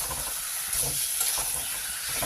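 Food stir-fried in a pan on the stove: a continuous soft sizzling hiss with faint scraping, steady and moderately close, with no talk.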